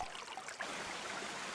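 A low-running forest creek flows gently below a trail on Gambier Island in Howe Sound during a dry spring, giving a soft, steady trickle and gurgle heard from a short distance.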